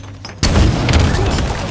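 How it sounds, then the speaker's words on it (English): A heavy rocket explosion in Halo Infinite multiplayer bursts in suddenly after a quiet moment, then a broad rumbling blast and debris noise linger and slowly fade. "Rockets."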